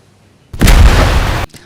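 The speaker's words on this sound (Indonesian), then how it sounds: "memasang dinamit terlalu kuat yang menyebabkan sebuah ledakan yang cukup besar" A large dynamite blast in a film scene, sounding as one heavy, loud boom that bursts in suddenly after a quiet moment and roars steadily for about a second before cutting off.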